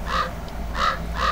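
A crow caws in the farming video game Pumpkin Panic, three harsh, loud calls spaced at regular intervals over a steady low background hum.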